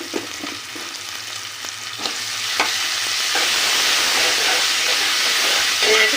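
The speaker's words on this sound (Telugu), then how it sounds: "కొద్దిసేపు వేగనియాలి దీన్ని కూడా" Ginger paste frying with softened tomatoes in a pan, a steady close sizzle with a few light stirring clicks and scrapes.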